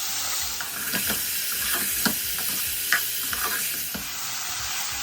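Cooked snake gourd is stirred into a frying pan of curry leaves, onion and turmeric, making a constant close sizzle broken by repeated scraping stir strokes.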